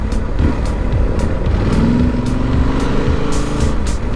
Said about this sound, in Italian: Traffico per uscire dalla città pazzesco.